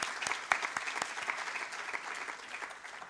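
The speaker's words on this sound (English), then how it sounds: "can we have a round of applause for those last three presentations?" A conference audience claps for the presentations just given, dense applause with some sharper individual claps, fairly close and continuous for a few seconds.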